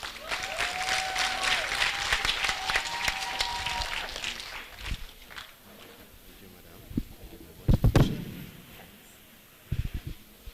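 Graduation ceremony audience applauding to welcome a speaker, a burst of many hands clapping that tapers off midway, followed by a few louder scattered claps and knocks.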